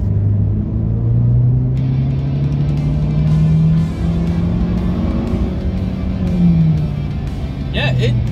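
A 2023 Ford Maverick XFR pickup truck drives with a steady engine drone and low rumble that rises slightly in pitch as it gains speed, continuous and fairly close throughout, with a brief light clatter near the end.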